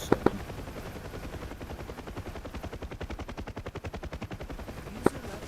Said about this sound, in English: Gunners opening up.